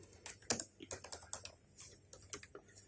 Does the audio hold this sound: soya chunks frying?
no